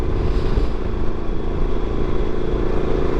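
A motorcycle engine drones steadily while riding on the road during a touring trip around Gaspésie and Acadie, with heavy rumble and wind noise throughout and no break in the sound.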